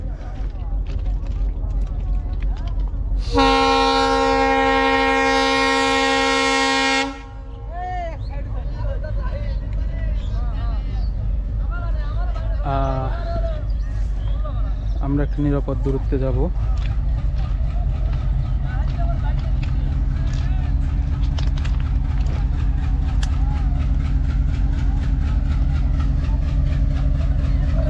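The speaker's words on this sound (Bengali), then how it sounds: "আপনাদেরকে দেখাবো ট্রেন যাচ্ছে" A train passing near the Chalan Beel wetland sounds a long, loud horn blast, then rumbles and clatters steadily nearby while people talk over it.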